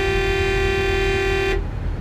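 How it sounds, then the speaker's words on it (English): A loud, sustained air horn blast from a 2025 Volvo VNL truck in American Truck Simulator, brassy in tone, held steadily for about a second and a half before cutting off abruptly. "let's try some air horns this time."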